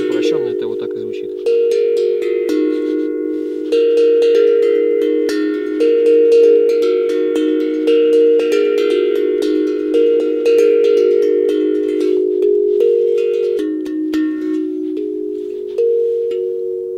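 A double-sided glucophone tongue drum called 'Les' played alone in a steady melodic line, its sustained metallic tones ringing and overlapping, close and fairly loud throughout.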